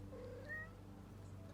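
A kitten at a dog park gives one short, clear meow over steady low outdoor background hum.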